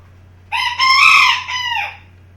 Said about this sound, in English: I'm just fucking sick of the chickens.